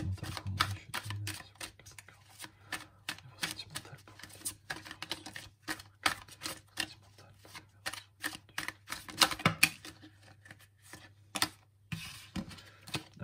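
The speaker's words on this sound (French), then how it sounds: "j'ai du mal à mélanger les cartes" Tarot cards being shuffled by hand, a close, quiet run of irregular sharp flicks and riffling taps that go on throughout with only short pauses, over a faint low hum.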